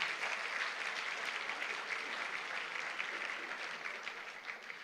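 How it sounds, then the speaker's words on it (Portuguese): Sustained applause rises from a church congregation, a thick wash of many hands clapping at once, holding steady before tapering slightly at the close, with no voices heard. "Dê uma salva de palmas a Jesus."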